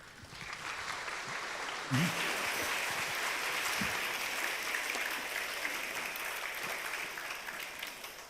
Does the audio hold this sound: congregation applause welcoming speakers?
yes